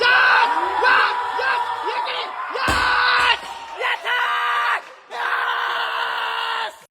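A weightlifter's teammate screams and yells hype at a lifting competition, loud voiced shouting in long sustained bursts with brief breaks between them, close and dominant.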